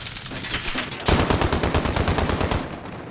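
Armored truck turret firing in a video game, a loud, close, continuous stream of rapid shots that kicks in abruptly after a second of background noise and rattles on evenly.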